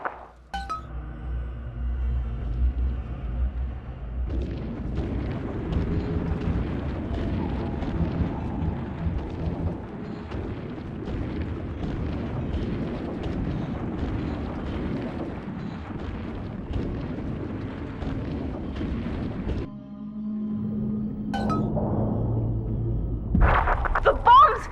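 Bombs explode and rumble in BioShock 2, a dense, continuous roar of low rumbling with clinking debris that thins out near the end before a final burst.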